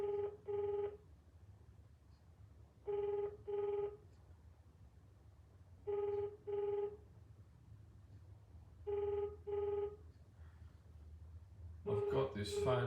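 A telephone rings repeatedly with no answer, four evenly spaced double-burst rings about three seconds apart over a faint background hum, ending with a brief louder clatter of sound at the close.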